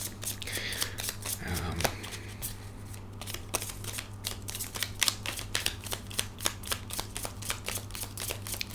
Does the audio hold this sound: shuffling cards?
yes